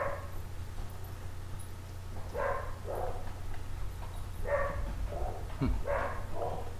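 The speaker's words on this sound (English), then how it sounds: "Sorry, we just had a stampede of dogs running through the house." Several dogs bark and yip in short bursts while running through a house, with footfalls thudding across the floor and a low steady hum underneath; the barking comes in clusters, fairly close but not loud.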